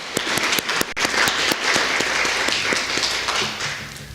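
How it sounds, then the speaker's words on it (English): An audience applauds students at a city State of the City address, a dense, loud burst of clapping with distinct individual claps at the start, fading slightly toward the end. "Let's give these outstanding students a round of applause."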